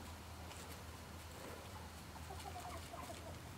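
Faint chickens clucking in the background, soft scattered calls over a quiet low hum.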